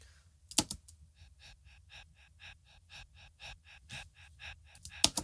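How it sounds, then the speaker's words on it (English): A sampled breath used as a percussive instrument in an organic stomp beat, with short rhythmic breathy pulses repeating at a steady tempo and a few louder sharp gasps or hits at the start and end, dry and close. "I took a sample of me breathing and I made it into an instrument"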